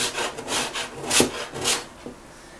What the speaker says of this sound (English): Now, I'm going to use the really fine side of the grater